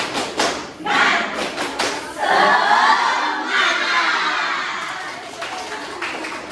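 Students in a university lecture room do a rhythmic spirit clap chant, a burst of claps and shouted voices from a group rising to a loud sustained crowd roar that fades slightly toward the end.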